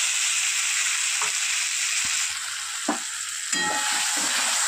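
Ground mustard and poppy seed paste sizzles and fries steadily in a pan, with a continuous bright hiss and a few soft stirring knocks, no talking.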